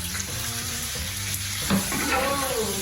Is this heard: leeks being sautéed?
yes